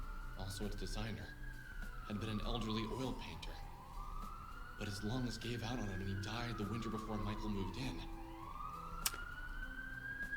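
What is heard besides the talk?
loud police sirens outside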